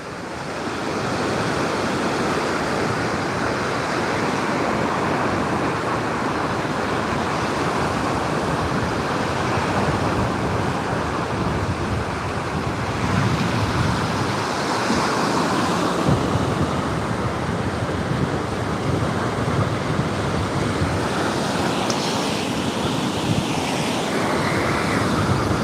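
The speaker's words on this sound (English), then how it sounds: "let you guys enjoy the sounds of the water and the sunset" Steady rushing surf from ocean waves breaking on a shore at Marco Island, Florida, a continuous broad wash of water with wind noise buffeting the microphone throughout.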